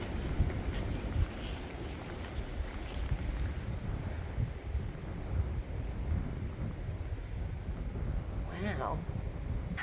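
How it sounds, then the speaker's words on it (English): Strong 45 mph wind gusts roar steadily against the microphone on a cold trail, a constant buffeting rush with gusty surges throughout. "45 mile an hour wind gusts"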